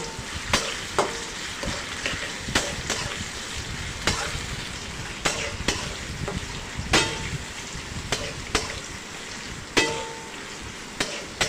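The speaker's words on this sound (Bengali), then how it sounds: "ভালো করে এটা তেলে নেড়ে নিতে হবে।" Oil sizzles steadily while washed dried fish is stirred, a utensil scraping with sharp clinks against the pan at irregular intervals, close and fairly loud.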